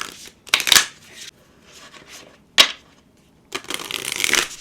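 Tarot cards are shuffled in three separate bursts, quick riffling and sliding with quiet pauses between, close and fairly loud.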